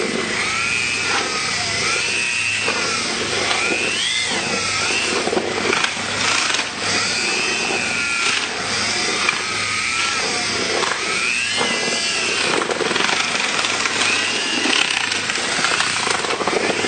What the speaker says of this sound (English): Mix the resin in thoroughly with a mud mixing drill.